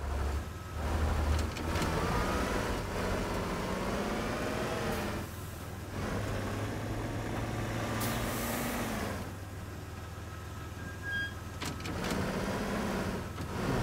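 A truck driven in the Teardown PC game gives a steady, moderately loud engine drone that rises and dips slightly as it moves, with no talking.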